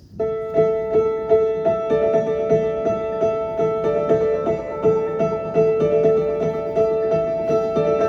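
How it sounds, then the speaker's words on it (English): A lone piano plays a gentle, repeating melodic pattern with sustained notes, moderately loud and steady throughout. "We start off with the piano on its own, and it sounds like this."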